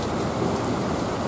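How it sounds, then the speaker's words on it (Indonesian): Heavy rain pours steadily at Leuwipanjang bus terminal in Bandung, a dense, even hiss of drops on surfaces with no voices. "Hujannya semakin deras."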